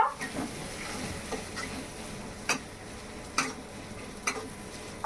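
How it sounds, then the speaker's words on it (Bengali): Chopped onions sizzle as they fry in a pan for chicken kosha. A spatula stirs them and clicks sharply against the pan every second or so, close and clear. "তো পেঁয়াজটাকে আমি ভালো করে লাল করে ভেজে নেব।"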